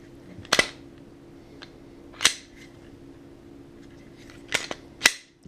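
A Glock 17 or 19 pistol gives sharp metallic clicks from slide and trigger, two close snaps early, a lone click midway and a final cluster, with quiet between.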